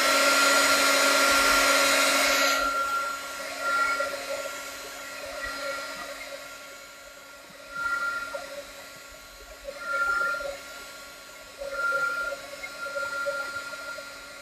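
A hair dryer blows hard and steady on a botanical watercolor painting for about two and a half seconds, then cuts off, leaving a quiet room with a faint hum and a few soft bursts of sound.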